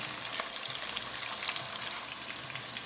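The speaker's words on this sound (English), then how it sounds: "Let that simmer for a little while." Sauce for a Thanksgiving turkey simmers in a pan, a steady close bubbling sizzle with fine crackles running unbroken throughout, no voices.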